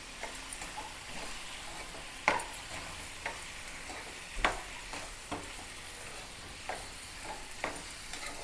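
Tomatoes soften in a frying pan with a quiet, steady sizzle, while a utensil clinks and scrapes against the pan now and then, nearby and without talking.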